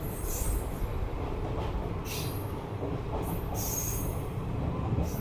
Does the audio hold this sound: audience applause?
no